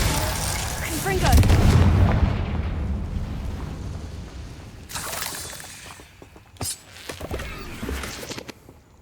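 A Confringo spell blast in the Hogwarts Legacy video game lands as a loud, deep booming explosion near the start, rumbling off before sharper bursts and crackles flare twice later.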